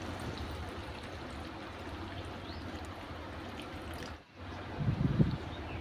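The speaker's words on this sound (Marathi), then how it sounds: "आपल्याला जेवढं रस्साभाजी जेवढी रस्साभाजी करायची आहे तेवढ्या प्रमाणामध्ये आपण इथे पाणी टाकणार आहोत" Water splashes steadily into a pot of simmering spicy moth bean curry, a continuous near pour with a brief pause and a louder gush toward the end.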